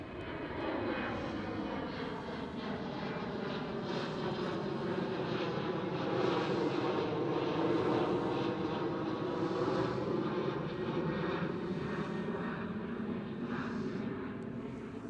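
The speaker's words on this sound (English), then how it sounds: "There goes the next KLM City Hopper" A KLM City Hopper Embraer E190 jet passes at Amsterdam Schiphol, its engine roar steady and broad for the whole stretch, with sweeping tones that shift as it moves by at moderate distance.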